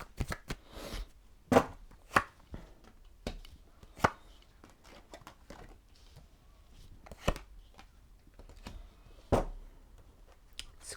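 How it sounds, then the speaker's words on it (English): A deck of tarot cards being shuffled by hand, giving sharp, irregular close-up snaps and riffles with quieter rustling between them, with no speech. "I don't normally have to shuffle them this much"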